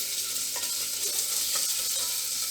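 Close, continuous sizzling of a pan frying ingredients for a quinoa, lentil and brown rice pulao, with a few soft clinks of stirring scattered through the steady hiss.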